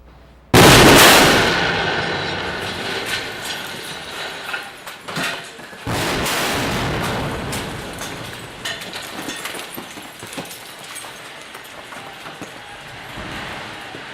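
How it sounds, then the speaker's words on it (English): Missile strike explosions hit a 12-story apartment building: a sudden loud blast followed by a long rumbling roar, then a second heavy boom with sustained crashing and debris noise trailing off. "this is what an Israeli missile strike looks and sounds like"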